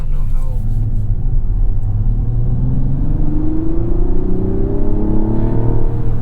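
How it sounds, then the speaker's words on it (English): A 2024 Mazda CX-90 accelerates, its engine note rising steadily with a piped-in, V6-like tone under a constant low road rumble heard from inside the cabin. "That artificially sounds like a V6."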